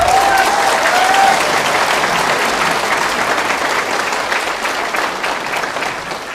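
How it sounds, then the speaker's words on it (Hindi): A seminar audience in a hall claps loudly and continuously, dense applause holding steady before easing off slightly toward the end. "और जोरदार तालियां अपने लिए बजा लीजिए।"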